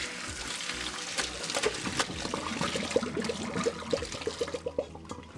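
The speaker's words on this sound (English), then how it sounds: "You're going to pour the pasta into the drainer." Cooked pasta and water poured from a pot into a drainer in a kitchen sink make a steady, rushing splash with bubbling, gurgling bursts. It is close and continuous, with no voices.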